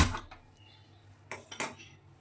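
Metal lid set down on a kadai heating over a gas flame, giving a few sharp clinks and clatters, near and moderately loud, with quiet gaps between them.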